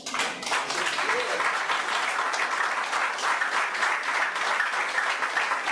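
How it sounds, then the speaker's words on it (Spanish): A church congregation applauding during a Spanish-language sermon, a dense sustained burst of many hands clapping that fills the room evenly from start to finish. "Aplaudan al Señor."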